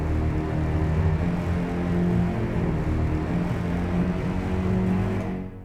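Full orchestral texture of bouncing spiccato strings, sustained legato strings, low strings and low brass playing together, dense and steady at an even level throughout, fading at the very end.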